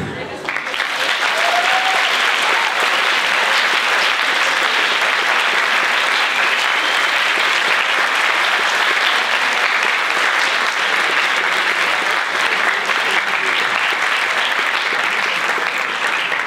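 Loud, sustained applause from an audience at a school TV show performance, dense clapping filling the whole stretch without pause.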